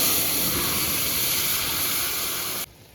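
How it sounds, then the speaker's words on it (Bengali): Vegetable curry poured into a hot kadai, a loud, steady hissing rush of steam and sizzle lasting several seconds, then cutting off abruptly near the end, no talk. "এবার তরকারিটা ঢেলে দিচ্ছি"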